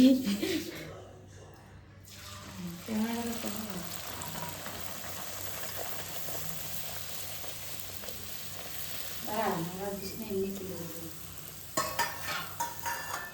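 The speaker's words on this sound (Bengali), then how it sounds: "লুচি ভাজি তোমাদেরকে দেখাচ্ছি।" Luchi, puffed flatbread, deep-frying in hot oil at home, giving a steady sizzle and crackle that swells in short bursts. Voices talk over it now and then, with a louder burst of frying near the end.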